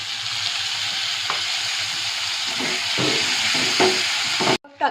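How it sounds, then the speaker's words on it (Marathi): Chopped tomato tipped into a pan of onion already sizzling in hot oil, frying for shev kanda; a loud, steady close sizzle runs throughout with small stirring clatters, then cuts off sharply near the end. "आता मी टोमॅटो टाकते"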